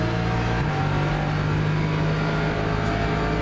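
A Lexus race car engine in a video game drones steadily at high revs, a sustained loud whine with a slight pitch shift early on, no voices.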